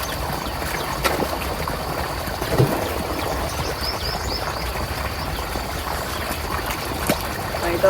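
Water gushes through a farm irrigation channel as a steady, broadband rushing flow, with a few soft knocks and splashes over the continuous wash.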